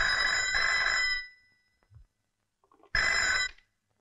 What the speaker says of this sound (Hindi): अनिता, फौरन उसे फोन करो